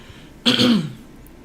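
One short, throaty cough or throat clear, close and abrupt, against quiet room tone.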